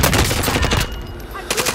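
Rapid automatic gunfire in Call of Duty: Modern Warfare, loud close bursts of shots, a brief pause, then more firing.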